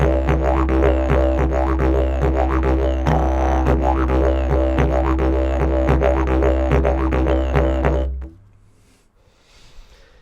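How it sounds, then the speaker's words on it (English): A didgeridoo plays a basic rhythm with a steady low drone and pulsing rhythmic accents, close and loud, then stops abruptly near the end, leaving faint room sound. "I'm going to play the basic structure that I'm thinking we'll work with today"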